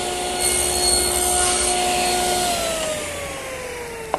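Table saw cutting a shoulder in wood, with the workpiece guided by a miter gauge set at 0 against a stop block: a steady high whine from the spinning blade that drops in pitch as the cut bites, ending in a sharp click.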